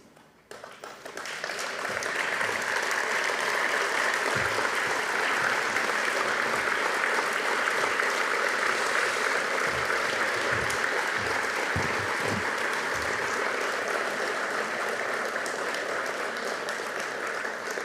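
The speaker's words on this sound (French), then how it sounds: "je vais vous demander de vous lever et d'applaudir vos familles" A large audience of firefighters and their families at a fire department recognition evening breaks into prolonged applause, swelling quickly to a dense, steady roar of clapping that continues for many seconds.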